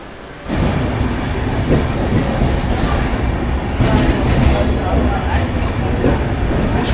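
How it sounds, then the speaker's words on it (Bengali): A passenger train, the Digha-to-Puri Samudrokanya Express, pulls out of Kharagpur railway station. A steady rolling rumble with faint wheel clatter starts after a brief quiet moment and continues evenly throughout. "ছেড়ে দিল আমাদের ট্রেন খড়গপুর স্টেশন থেকে।"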